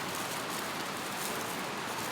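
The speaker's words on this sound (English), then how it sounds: "And it's just started raining again." Rain falls steadily at a riverside campsite beside a tent, a soft, even hiss with no voices, light but continuous throughout.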